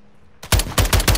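Close, loud bursts of automatic gunfire from the Call of Duty Warzone 2 video game, rattling off in about four rapid clusters after a brief quiet start.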